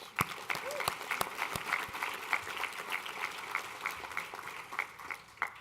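Scattered audience applause at a women's honors gala, a moderate patter of clapping with a few sharper individual claps, fairly close and steady.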